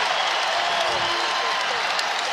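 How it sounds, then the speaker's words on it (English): The crowd fills a college basketball arena at a Texas A&M versus Arizona NCAA men's game with a steady wash of cheering and applause that carries on without a break, while a commentator speaks over it. "The crowd trying to urge them on here."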